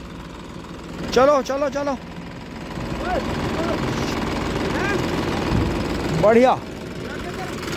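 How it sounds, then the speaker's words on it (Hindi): Massey and Mahindra tractor engines run steadily near a field, a continuous low diesel rumble that swells slightly in places, while someone shouts directions over it in short bursts. "ट्रैक्टर का मूविंग कर दो जरा सा पीछे करके"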